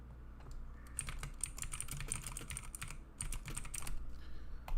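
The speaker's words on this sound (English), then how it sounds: "Hope you like the sound of my mechanical keyboard clanking." Rapid clacking of mechanical keyboard keys, close and steady, in bursts of fast typing with brief pauses, over a low background hum.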